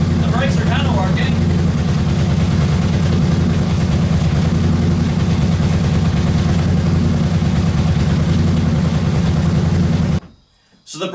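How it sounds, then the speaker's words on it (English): A home-made mini rock crawler's small engine runs loud and close, a steady low rumble that drags and bogs down under braking, then cuts out abruptly near the end before briefly picking up again. "You can hear the engine bogging down when I'm hitting the brakes."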